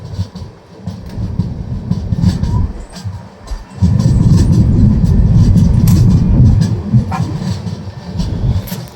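A train hauled by an EMD diesel locomotive through a ghat section toward Yesvantpur, heard from on board as a loud, steady rolling rumble with clicking wheel beats that swells heavier partway through.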